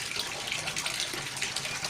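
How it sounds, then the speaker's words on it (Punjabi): Hot water pours steadily from the outlet pipe of a herbal distiller, a soft continuous splashing trickle heard alone and fairly quiet throughout. "ਇੱਧਰੋਂ ਗਰਮ ਪਾਣੀ ਕੱਢਾਂਗੇ ਔਰ ਗਰਮ ਪਾਣੀ ਇਸ ਤਰ੍ਹਾਂ ਦੇਰ ਨਾਲ ਨਿਕਲੇਗਾ"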